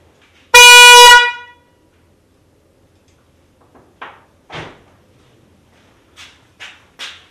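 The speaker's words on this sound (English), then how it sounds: "I think that's the higher pitch of the two horns" An aftermarket Hella horn fitted to a 5th generation Toyota 4Runner blares once in a single loud, bright blast of about half a second, followed by quiet clicks and clunks of handling nearby.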